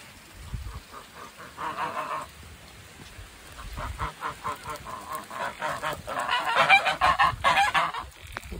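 Ducks honk and quack in a loose, repeated series at close range, the calls growing busier and louder toward the end, with no talking over them.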